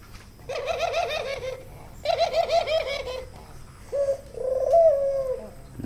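Several doves call in two bursts of rapid, repeated cooing notes, followed by a couple of longer, drawn-out coos, close and clear over a quiet background.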